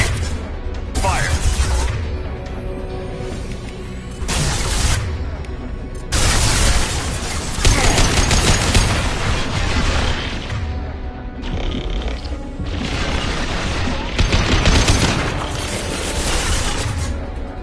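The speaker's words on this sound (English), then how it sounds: "I'm taking fire." Loud bursts of gunfire and explosions in a Mass Effect 2 firefight, heavy blasts coming in repeated waves with short gaps between them, close and dense throughout.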